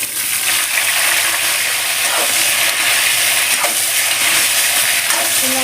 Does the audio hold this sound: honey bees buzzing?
no